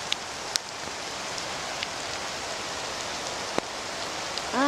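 Hail falling in Grand Teton National Park, a steady dense patter heard from shelter under a tree, with a few sharp ticks as stones strike nearby.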